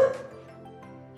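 A dachshund puppy lets out one short sharp bark at night, followed by a faint lingering whine and quiet background hum.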